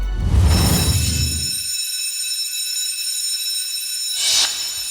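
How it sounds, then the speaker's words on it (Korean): A fire alarm rings loudly and continuously, a piercing electronic tone, with a brief burst of noise at the start and another near the end. "만약 내가 자고 있을 때 화재 경보가 울리면 일단 구리야라고 소리 지릅니다"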